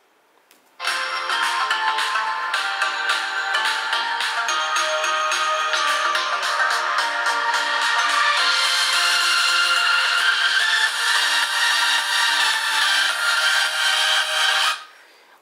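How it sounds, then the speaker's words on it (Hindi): Music plays continuously through a small, thin-sounding Xiaomi Mi 11X phone speaker, steady and fairly loud for about fourteen seconds, then stops. "मैं जल्दी से आपको एक ऑडियो सैंपल सुना देता हूँ"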